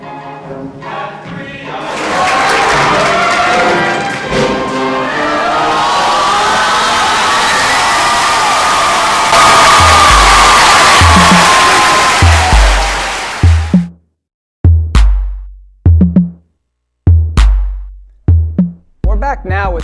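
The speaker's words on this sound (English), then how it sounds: "The crowd loves it." An audience at a high school stage production of Fiddler on the Roof cheers and shouts loudly for about fourteen seconds with whoops mixed in, then cuts off, leaving a few short isolated thumps and sounds.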